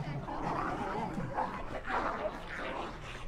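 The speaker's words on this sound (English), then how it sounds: "You can hear the dogs." Several dogs bark and whimper at a distance, overlapping in a muffled, restless chorus with a voice faintly mixed in.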